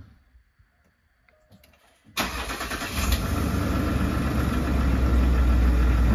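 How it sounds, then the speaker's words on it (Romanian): A Range Rover engine firing up for the first time with its full exhaust system fitted: quiet clicks, then an abrupt crank and catch into a loud, deep, steady idle, heard close. "Iar acum va urma prima pornire cu sistemul de evacuare complet legat."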